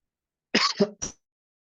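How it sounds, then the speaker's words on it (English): A brief fit of coughing, two quick coughs followed by a third, close up in an otherwise silent room. "I seem to be in a bit of a coughing fit at the moment"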